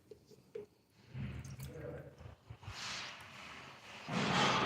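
ONR no-rinse wash is poured into warm water in a bucket, with soft drips and splashes building into a steady gurgling fill at the end, no talk.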